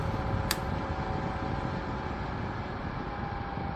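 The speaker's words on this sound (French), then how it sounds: "pour un ventilateur qui souffle comme ça" A CATGIFF battery-powered table fan runs with a soft, steady whoosh of air and a faint tonal hum, close and even, with one brief click early on.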